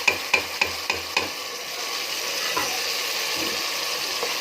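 Potatoes, green chilies and chana dal frying in oil while being stirred, a few quick knocking scrapes of the spoon at the start, then a steady close sizzle.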